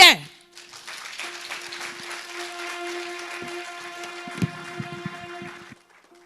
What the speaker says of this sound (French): Mesdames et messieurs, sous vos applaudissements, la chorale Grâce